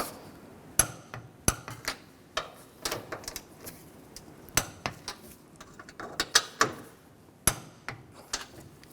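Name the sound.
tightening strut mount nuts with a wrench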